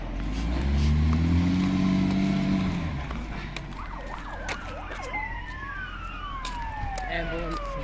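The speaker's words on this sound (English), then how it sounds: "Ambulance coming through." An ambulance siren passing on a street: a rising and falling wail cycling into a quick yelp and sweeping tones, near and fairly loud over a rumbling vehicle, with people talking.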